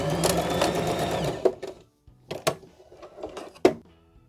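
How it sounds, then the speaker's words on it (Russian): A sewing machine stitches fabric for a unicorn pillow, a steady close motor whir for about a second and a half, then short separate bursts of stitching with pauses between them. "Строчка в начале и в конце должна сходить на нет."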